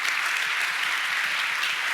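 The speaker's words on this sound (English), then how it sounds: "Please give them a round of applause." Audience applause for a panel on inclusive digital design: a smooth, continuous roar of many hands clapping, even and moderately loud from start to finish, with no voices.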